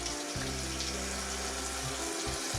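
Water runs continuously from a bathroom tap into a sink while a face is wetted before shaving, a steady close rushing and splashing with slight shifts in flow.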